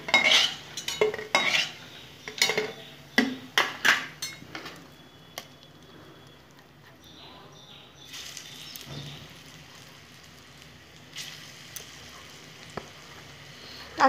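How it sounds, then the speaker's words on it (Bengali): Fritters fried until reddish-brown are lifted from a pan of hot oil, with scattered metal clinks of a spoon or slotted spoon against the pan over a soft sizzle that settles into a quieter frying hiss. "আমি বড়াগুলো লাল লাল করে ভেজে তুলে নিচ্ছি।"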